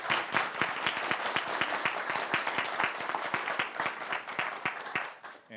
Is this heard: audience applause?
yes